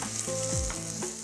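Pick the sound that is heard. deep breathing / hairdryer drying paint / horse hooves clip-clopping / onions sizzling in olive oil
onions sizzling in olive oil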